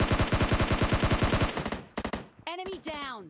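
Rapid automatic gunfire from SCAR-L and M416 rifles in the mobile game PUBG Mobile Lite rings out as a fast, loud burst of evenly spaced shots, followed by a few scattered shots and a short spoken game announcement.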